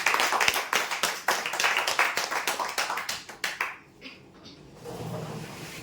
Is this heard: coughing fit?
no